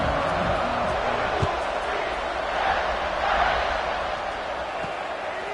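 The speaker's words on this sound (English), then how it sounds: "this crowd is buzzing after that last score" A crowd in a college football stadium buzzes after a score in a Fresno State vs UCF game, a steady dense roar of many voices that swells now and then, heard from a distance.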